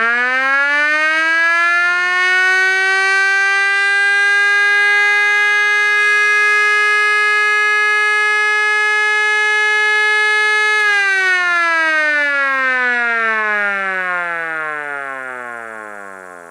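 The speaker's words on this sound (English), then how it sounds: "And there's a little 12-volt siren thing." A small 12-volt electronic siren gives a short alert blast, rising quickly to a steady loud wail, holding, then winding down in pitch as it fades out, heard alone.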